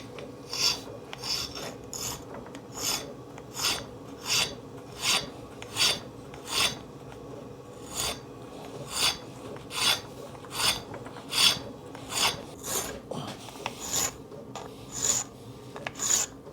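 A hand file rasps steadily across a motorbike part clamped in a vice, about twenty even back-and-forth strokes at a slow regular rhythm, close and clear with no talk.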